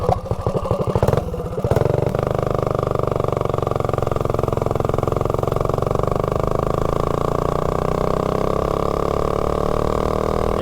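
Mini bike engine fitted with a 285 cam revving hard, loud and close, with choppy blips at first then a sustained high-rpm drone and mechanical clatter.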